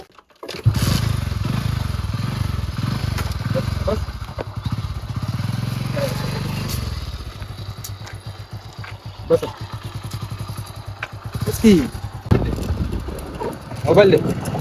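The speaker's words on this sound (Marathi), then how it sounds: "आता बाईकवरती चाललो आम्ही" A motorbike engine drones steadily while riding, with the revving rising and falling and some wind and road noise mixed in.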